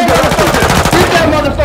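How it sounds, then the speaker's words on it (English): Dense, continuous automatic gunfire from a Call of Duty match, loud and rapid with overlapping bursts filling the whole stretch, while faint voices sit underneath. "Who's shooting?"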